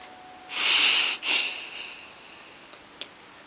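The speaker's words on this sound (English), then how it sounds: "let's hold our breaths. And breathe." One person releases a held breath in a forceful, close exhale, followed by a second shorter breath and then quiet.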